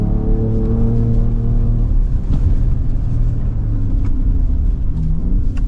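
A 2024 Ford Ranger Raptor tearing off-road over jumps, engine rumbling loud and close with a steady droning tone, broken by a few thumps as the truck lands.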